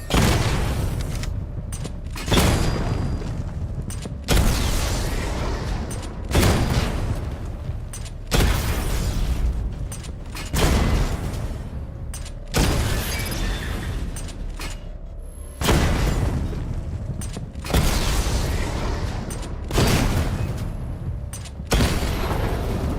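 The Batmobile's missile barrage in a Batman video game fires and detonates in a steady cycle of heavy booms, about one every two seconds, each a loud blast that decays quickly before the next.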